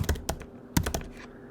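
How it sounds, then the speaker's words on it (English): Keys clatter on a computer keyboard in short bursts of quick taps, with a sharper strike near the middle, heard close up and alone without any voices. "I can start typing in Cincinnati"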